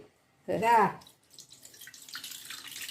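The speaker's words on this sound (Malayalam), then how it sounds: "കുറച്ച് കൊറച്ചായിട്ട് വെള്ളം ഒഴിച്ച് ഇങ്ങനെ പിഴിഞ്ഞെടുക്കണം" A brief voice, then water trickles and drips quietly as soaked tamarind is squeezed by hand, a wet squeezing splash that continues to the end.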